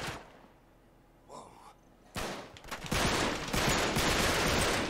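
Rapid bursts of gunfire from the video game Uncharted 3: Drake's Deception, quiet at first, then loud sustained shooting packed with dense shots in the second half.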